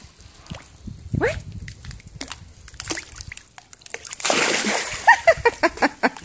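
A dog leaps into water, giving a loud, close splash and sloshing, followed by a run of rhythmic paddling splashes, with scattered voices and movement before the plunge.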